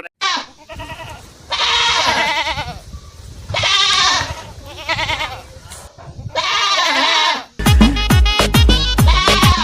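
Goats brought to a market for sale bleat loudly and close by, four or five long, wavering calls with short pauses between them, followed by a quick run of rapid, higher bleats.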